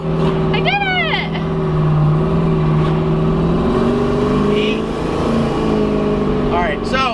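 A 1000-horsepower turbocharged Chevrolet Camaro roars loudly through its gears, engine pitch climbing and dropping at each upshift, with a voice cheering over the steady, close drone.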